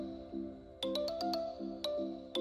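A mobile phone rings during an outgoing call at a birthday celebration, playing a quiet, repeating electronic ringtone melody of tonal beeps and chimes with no talking over it.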